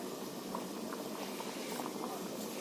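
Chicken ghugni simmers in a pot with a steady, close bubbling that runs throughout, soft and even without clear pauses.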